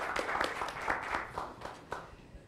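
Scattered clapping from a small group at a school committee meeting, moderately loud and fairly close, with uneven overlapping claps fading toward the end.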